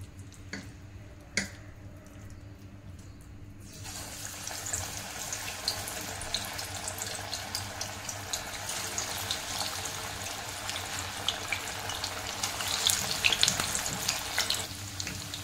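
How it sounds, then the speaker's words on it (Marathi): Moong bhaji fritters dropped one by one into hot oil in a kadhai, a quiet start giving way to a steady, close crackling sizzle with faint bubbling that grows slightly stronger toward the end. "आता आपण एक एक भजे सोडूया तेलामध्ये।"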